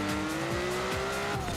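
Ferrari Testarossa engine revving loud and steady while racing in Forza Horizon 4, its pitch climbing slowly through a gear, with brief tire squeals and no talk.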